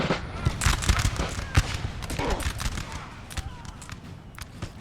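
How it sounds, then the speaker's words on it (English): Muskets crackle in a ragged infantry volley in Napoleon: Total War during a Russian Civil War multiplayer battle, many sharp close shots popping unevenly over a few seconds amid battlefield din. "Let's have a volley, boys."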